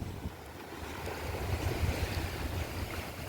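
Sea waves wash and surge along the shore at Kanyakumari, a steady roar of surf mixed with wind buffeting the microphone, fairly soft and continuous with no voices.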